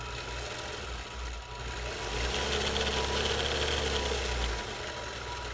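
A sewing machine runs steadily while quilting heart shapes with a regulated stitch, a continuous close mechanical hum with a fast rhythmic stitching chatter that speeds up slightly midway.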